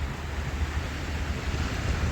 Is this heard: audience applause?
no